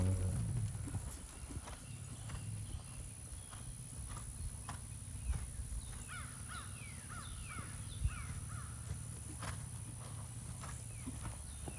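Rhythmic hoofbeats of a horse cantering in a dressage arena, a steady clip-clop at moderate distance, with crows cawing faintly in the background and no talk.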